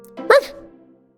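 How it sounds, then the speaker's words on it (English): A dog gives a single short, bright bark, close and clear, in a quiet storybook setting with no other sound around it. "Just then, there was a happy bark."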